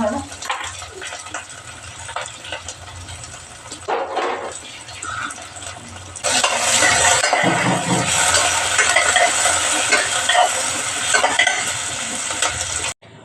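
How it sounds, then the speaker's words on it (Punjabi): Rice being tempered with cumin in hot oil gives a loud, steady sizzle that swells sharply partway through and carries on to the end, with faint stirring beneath. "ਲਓ ਜੀ ਚੌਲਾਂ ਨੂੰ ਲਾਤਾ ਆਪਾਂ ਨੇ ਤੜਕਾ"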